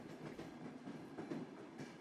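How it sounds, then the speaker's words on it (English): A train rolls over a bridge across the River Lochie on the West Highland Line, its wheels beating a soft, regular clickety-clack at a distance, faint and unbroken. "The train went over the River Lochie, the clickety-clack of its wheels increasing in tempo."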